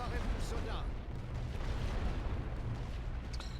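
Light artillery fires in The Great War: Western Front, a World War I strategy game, as a dense, continuous rumble of distant booms and battle noise with a few sharper bursts near the end.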